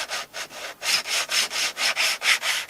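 A bullet level pressed and rubbed back and forth over a cinder block step produces about ten rhythmic gritty scraping strokes, close and loud, with brief pauses between passes and no speech.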